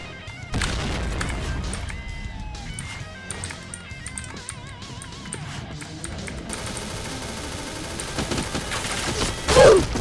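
Bursts of rapid gunfire from an OA-93 Prime gun in a first-person shooter game, dense and continuous with a loud blast near the end, under background game noise.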